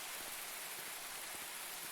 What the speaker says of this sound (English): under the rain, the acid rain, the dangerous rain.